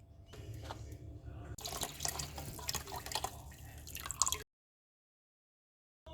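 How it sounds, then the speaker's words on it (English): Stock is poured from a container into a pot of noodle soup. A steady, close gurgling pour runs for about four seconds and then stops into silence. "I do have an extra container of stock, so I'm just going to add that in."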